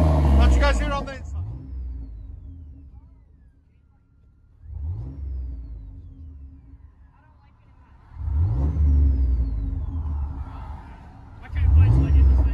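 Inside the cab of a Chevy Silverado with a 4.3L V6 and side pipe exhaust, the engine revs four times, rising and falling back to a quiet muffled idle between blips, while a person talks briefly at the start.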